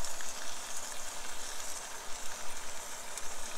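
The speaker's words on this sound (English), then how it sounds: "You put the burgers on and the burgers start cooking" Pre-formed burger patties frying on an Ozark Trail camp stove, a soft steady sizzle with faint fluttering crackle, fairly quiet and close.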